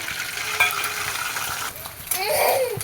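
An egg fries in a spoonful of coconut oil in a small iron kadai. A close, bright sizzle hisses throughout, with a light clink and a fresh surge of crackling near the end.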